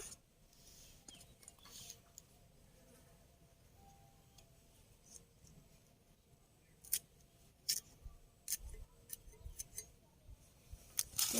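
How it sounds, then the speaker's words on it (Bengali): Banana flower being cut for fritters, a quiet stretch of soft rustling followed by a series of sharp, crisp snips and cuts, close and intermittent with no talking. "এবার মোচাগুলো কেটে নেব"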